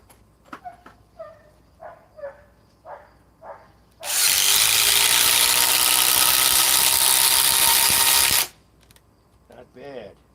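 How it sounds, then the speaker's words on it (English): A new Ryobi cordless power tool on an Edge battery whirs loudly and steadily for about four seconds, starting and stopping abruptly, with someone talking briefly before and after. "Let's run it the new Ryobi with the Edge battery."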